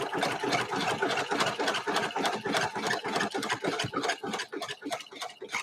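A sewing machine runs a serpentine stitch across a quilt, its needle hammering in a fast, steady rhythm of closely spaced clatters that carries on unbroken throughout.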